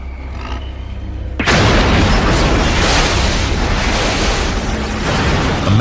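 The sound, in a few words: truck crashing through another truck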